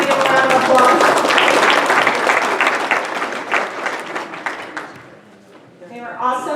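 Audience applause at a county board of supervisors meeting for visiting government students, loud close clapping that thins out and fades, then a voice starts speaking at the end.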